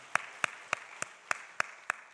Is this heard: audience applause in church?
yes